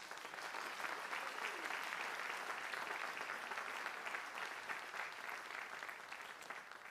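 A crowd claps steadily for several seconds, dense, even applause from a sizable audience with no clear voices.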